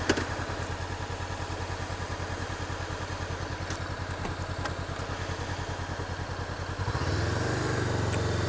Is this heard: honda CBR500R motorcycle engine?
yes